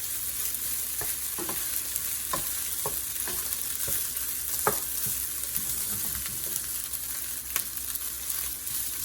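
Garlic sizzles and fries in oil in a pot for fried rice, a steady crackling hiss broken by sharp, close stirring clinks and scrapes at irregular intervals.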